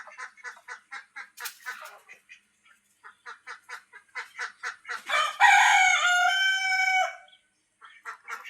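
Backyard chickens close by give a rapid series of rhythmic clucks, then a rooster lets out one loud, drawn-out crow before more clucking resumes, with no talk.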